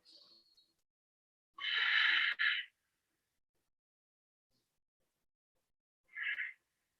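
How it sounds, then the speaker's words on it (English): Deep yoga breaths come in as two soft breathy exhales or inhales: a longer double-pulsed breath near the start and a shorter one several seconds later, close and clear with near silence around them. "Let's take 3 full breaths."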